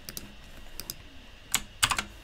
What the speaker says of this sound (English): clicks and my keyboard clicks when I copy and paste stuff